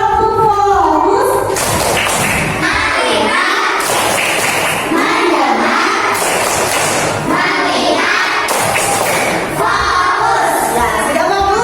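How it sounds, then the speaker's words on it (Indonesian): Schoolchildren in a classroom clap together in a rhythmic focus-clap pattern, loud and busy, with repeated bursts of clapping mixed with children's voices and chanting throughout. "supaya fokus kita tepuk fokus dulu ya, tepuk fokus"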